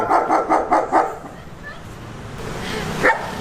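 A dog outdoors in Bangkok lets out a quick run of five yappy barks close by, followed by a stretch of street ambience and one more faint yelp, with a voice briefly in the background.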